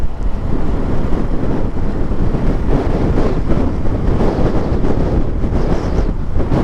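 Steady, loud wind buffeting the microphone outdoors while riding a Suzuki Smash 115R motorcycle past coconut trees, a continuous low rumble with gusty surges and no voices.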